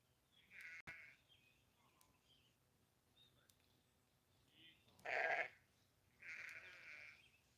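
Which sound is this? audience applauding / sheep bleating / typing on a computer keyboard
sheep bleating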